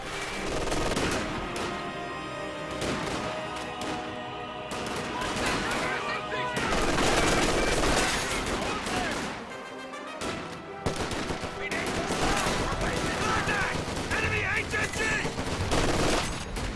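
MG42 machine gun firing into a house in a wartime strategy video game match, with repeated rattling bursts amid other battle noise and background sound throughout.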